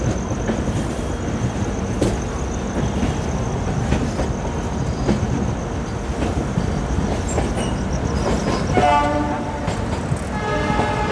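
Train at Howrah railway station: continuous rumble and clatter of rolling rail cars with rhythmic wheel clicks, a horn sounding in the last few seconds, steady and fairly close.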